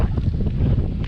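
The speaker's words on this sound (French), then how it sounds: "Par contre là il y a beaucoup de vent." Strong wind buffets the microphone outdoors on a hilltop near Massa Marittima, a loud, close, rumbling roar with gusty swells and no speech.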